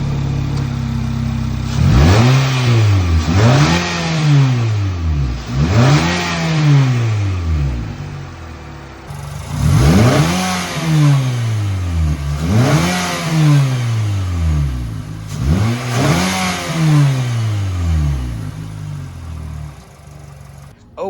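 A Nissan Altima fitted with a cold air intake revs up repeatedly, each rise of the engine note climbing and falling back in a steady pattern of about six close, loud revs with no talk.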